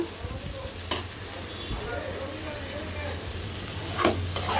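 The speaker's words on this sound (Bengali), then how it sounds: "আবার নেড়ে চেড়ে দিচ্ছি।" Minced meat frying with garlic paste, green chili paste and whole green chilies is stirred in a pan: a steady soft sizzle throughout, punctuated by a few sharp utensil scrapes and clinks against the pan.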